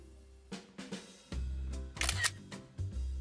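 Camera shutter clicks while shooting Lego stop-motion frames, several sharp close mechanical snaps spaced irregularly over about three seconds, with no voices.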